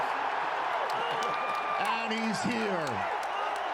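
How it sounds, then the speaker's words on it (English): A big NFL draft crowd in Green Bay roars continuously with cheers and whoops, a dense, sustained wash of noise heard from close by, while a broadcaster speaks over it. "Listen to this crowd."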